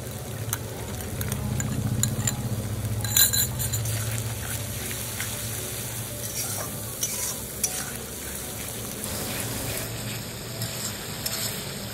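Fried onion with ginger-garlic paste, turmeric, Kashmiri red chilli powder and salt sizzling steadily in a pan with occasional stirring scrapes, a continuous close frying hiss for Bengali-style chicken kabiraji, no talking.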